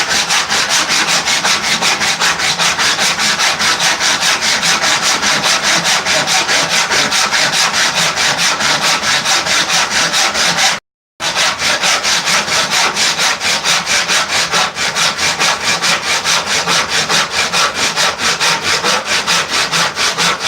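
A hand saw cuts through wood held against a fence, a steady rhythmic rasp of push and pull strokes, loud and close, running continuously with one brief pause partway through.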